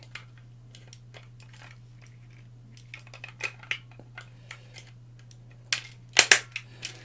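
Plastic parts of a Miniforce Sammy transforming toy robot are pressed tightly into place, giving scattered small clicks and taps over a steady low hum, ending in a louder cluster of sharp snaps.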